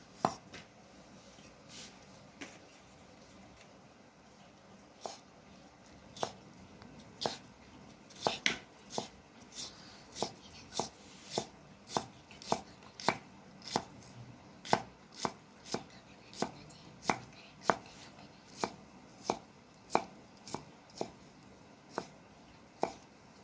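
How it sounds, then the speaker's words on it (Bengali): Capsicum being finely chopped with a knife on a board, a series of sharp, evenly spaced close knocks at a slow, regular pace against a quiet background. "ক্যাপসিকামকেও কিন্তু আমরা পেঁয়াজের মতনই একদমই ঝুড়ি ঝুড়ি করে কাটবো।"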